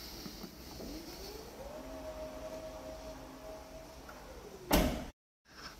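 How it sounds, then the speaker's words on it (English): Electric power tailgate on a Volvo XC90 T8 plug-in hybrid whirring steadily for about three seconds as the motor drives it, ending in a firm thud as it latches, heard alone at close range. "you also have an electric power tailgate"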